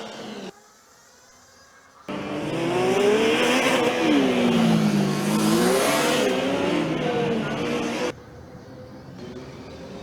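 A Baltic Racing Formula Student car pulls away onto the track during an endurance event. A loud, close engine note rises and falls in pitch for about six seconds, then cuts off, leaving quieter background sound.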